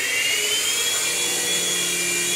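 A small beginner RC helicopter hovers in motion-control mode, its motor and rotor giving a steady high-pitched whine with tonal bands, close and continuous with no talk.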